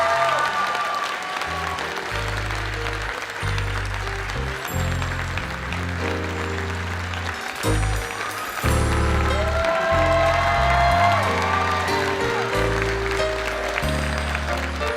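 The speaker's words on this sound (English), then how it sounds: "Can we give them one more round of applause?" Audience applause for performers at a tribute event, a sustained, loud wash of clapping running throughout under tonal musical chords from a live performance.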